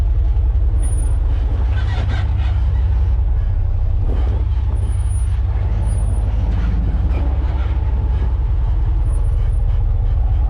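A Jeep crawling down a steep, rough off-road trail in Moab, its engine a loud continuous rumble right at the microphone, with creaks and knocks from the rocky descent; no speech.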